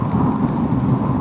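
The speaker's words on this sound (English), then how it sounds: "It's raining." Steady rain hisses and patters with a low rumble underneath, continuous and fairly close, with no voices.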